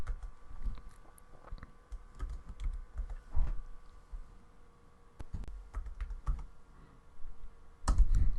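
Keys tapped on a computer keyboard while formulas are typed into a spreadsheet, giving irregular soft clicks in short bursts across the span, fairly close and quiet, with a louder cluster near the end and no talking.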